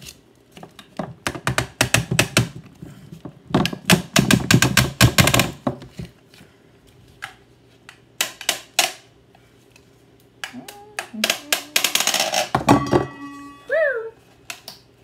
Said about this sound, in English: And unscrew this. Unscrew your motor.